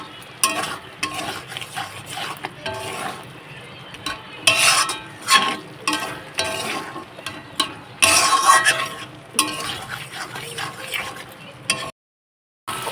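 A spoon scrapes and stirs garam masala around a frying pan over a faint sizzle, working in uneven bursts of scraping that rise and fall before a short drop to silence near the end.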